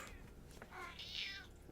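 A single short cat meow, soft and somewhat distant, rising in pitch, over a quiet background.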